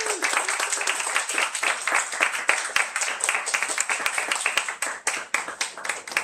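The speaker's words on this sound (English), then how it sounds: "may I have a round of applause for William" Audience at a Los Angeles book launch claps for an associate editor of the Martillo Press, a steady patter of many hands with sharp individual claps standing out, fairly close and continuing throughout without speech.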